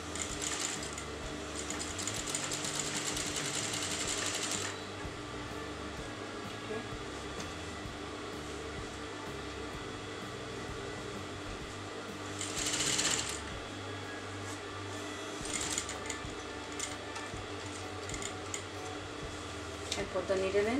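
A sewing machine running along a fabric edge in steady mechanical bursts, one long run then shorter ones, with someone talking quietly in between.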